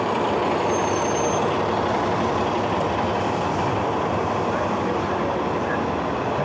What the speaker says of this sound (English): let's check out these two other buses coming in